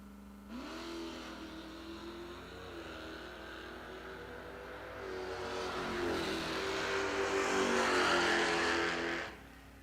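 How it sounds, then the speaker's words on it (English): A drag race car launches and accelerates down the strip at the IHRA World Finals, its engine note rising and holding as it pulls away, loud and roaring before cutting off near the end. "Right lane 845 at 86. Mopar here,"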